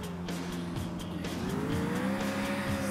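Car driving in the video game GTA IV, a steady engine drone with rising pitch as it accelerates, plus faint tire noise and road rumble.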